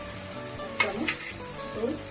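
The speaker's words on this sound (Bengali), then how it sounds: "দই দিয়ে দিচ্ছি" Yogurt added to soybeans and chana dal frying in a hot pan, a soft continuous sizzle with a couple of brief spoon knocks, close and moderately quiet.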